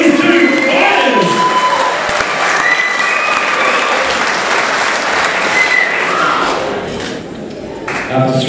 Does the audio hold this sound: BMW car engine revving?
no